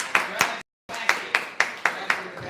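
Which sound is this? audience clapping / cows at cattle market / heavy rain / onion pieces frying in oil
audience clapping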